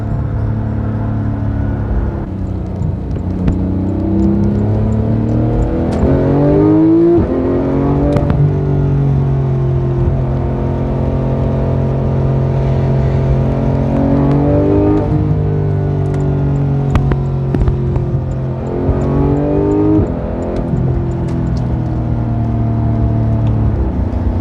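Porsche 911 GT3 engine revving around 4,000 RPM, climbing through several loud, throaty pulls with steady drone between them, heard close and alone without talk.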